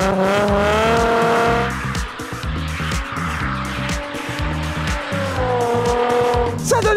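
A Nissan 350Z drifting, its engine revving hard and steady while the tires squeal in long rising and falling screeches, close and loud with no voices.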